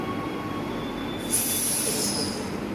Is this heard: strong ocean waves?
no